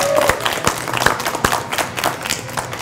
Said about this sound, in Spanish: vamos a darle un aplauso a Playtime porque nos prestó este lugar